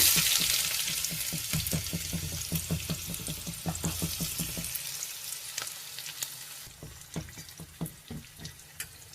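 Mustard seeds and onions dropped into well-heated oil, crackling and spluttering loudly at first, then settling into a quieter sizzle broken by sharp popping bursts near the pan.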